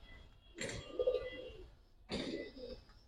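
Pigeons kept for sale, giribaz and other fancy breeds, give two soft throaty coos about one and a half seconds apart, close by but quiet.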